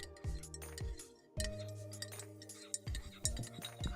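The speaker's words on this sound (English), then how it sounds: "use the metal spoons so you get a nice tinkling sound as I stir" Metal spoons clink repeatedly against a cup while stirring: several bright ringing taps in an uneven rhythm, close by and quiet, with no talking.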